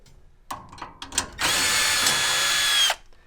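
A power drill or driver backs two screws out of a metal furnace burner bracket: a few short clicks and bursts, then one steady loud whirring run for about a second and a half, close by.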